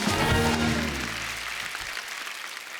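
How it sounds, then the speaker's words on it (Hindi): A studio audience on The Kapil Sharma Show, a televised comedy talk show, claps loudly to welcome a guest, with dense applause that slowly tapers off over a few seconds. "जोरदार तालियां कंगना के लिए।"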